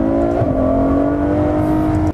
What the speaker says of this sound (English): you can drop down a couple of gears and give it full throttle for a fraction of a second, and it's just incredible